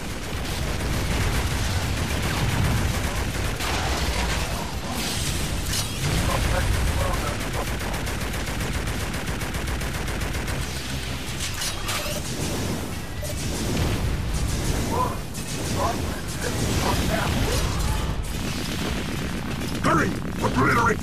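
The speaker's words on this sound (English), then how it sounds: "Enemy fire detected." Dense, continuous gunfire with rapid machine-gun bursts and booming blasts fills a battle in the video game Transformers: Revenge of the Fallen, loud throughout, with spoken voices heard over the combat.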